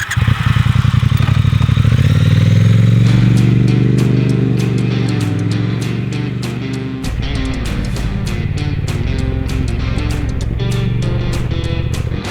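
Triumph Speed Twin 1200 motorcycle riding on a city road, its engine loud and close, revving up then settling into a steady throbbing cruise with gear shifts, wind and road noise.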